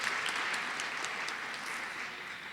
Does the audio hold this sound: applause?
yes